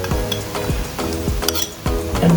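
A spoon stirs Kashmiri chili powder through hot oil in a pan for Kerala-style beef pickle, making a steady sizzle with regular rhythmic scrapes and knocks about every half second, close and loud, with no voices.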